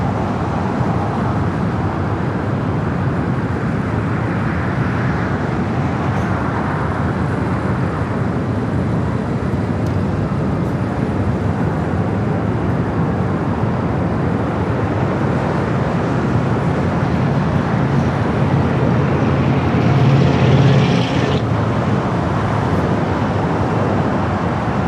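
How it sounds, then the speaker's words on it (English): China Airlines Cargo Boeing 777 freighter landing at LAX from Taipei: a loud, steady broadband jet roar that swells slightly near the end, with no one speaking. "turn off for this 777 freighter coming in from Taipei"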